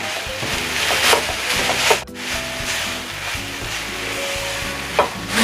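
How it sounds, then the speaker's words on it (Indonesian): Grated coconut serundeng frying and being stirred steadily in a pan, a continuous sizzle with repeated scraping strokes of the spatula, close and fairly loud. "Diaduk-aduk terus ya sampai kelapanya ini tercampur rata dengan bumbunya ya."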